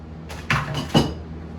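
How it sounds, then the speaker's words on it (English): Two quick wooden knocks and rattles of kitchen drawers being pulled open and rummaged, close and fairly loud, about half a second apart, alone. "he's peeping in my drawers."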